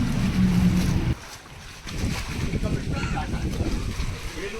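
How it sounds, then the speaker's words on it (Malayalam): A boat pulls in on Vembanad lake at Kumarakom, a steady engine drone cutting off after about a second, followed by wind buffeting the microphone and water sloshing close by. "ബോട്ട് വന്നിട്ടുണ്ട്."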